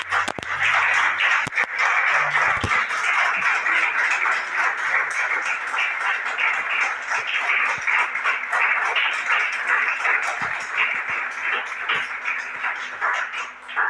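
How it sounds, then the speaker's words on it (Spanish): A church congregation bursts into loud, sustained applause, a thick roar of many hands clapping steadily for over ten seconds with a few sharp knocks near the start. "Dale un aplauso fuerte."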